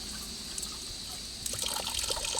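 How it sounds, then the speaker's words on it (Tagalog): Water drips and trickles faintly in a quiet indoor spot, a soft steady running sound with a few brighter splashy drops toward the end. "Tulo-tulo ang tubig ito."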